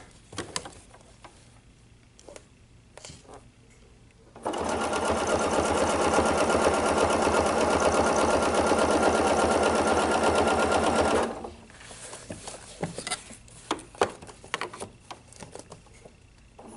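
A sewing machine stitches a row on a table runner in one steady, loud run of about seven seconds. Quieter handling taps and clicks come before and after it.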